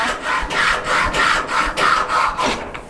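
A Japanese pull saw cuts through wood clamped in a vise, giving a close, rhythmic rasping of about six even strokes, each a bright scratchy burst with short pauses between.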